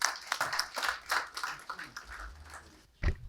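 Audience applause for an ambassador being introduced at a formal business address in a hall, moderate clapping with irregular bursts lasting a few seconds, then a louder short burst near the end.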